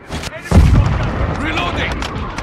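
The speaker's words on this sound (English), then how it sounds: "Friendly cruise missile inbound." Cruise missile strike explosion in Call of Duty Modern Warfare 2: a sharp burst at the half-second mark swells into a deep rumbling boom that lingers under game noise and a voice.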